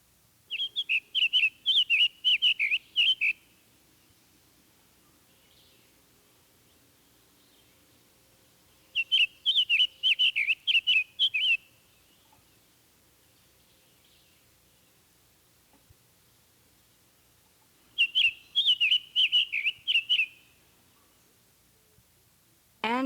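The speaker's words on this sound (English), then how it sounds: "The softer, sweeter song of the Summer Tanager." A Summer Tanager sings soft, sweet, warbling phrases, each a quick run of several notes lasting a couple of seconds. Three phrases arrive at long, even intervals with near silence between them.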